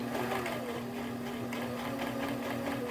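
A sewing machine stitches fabric in a steady, close mechanical whir with a faint rhythmic pulse of the needle and no voices, running continuously throughout.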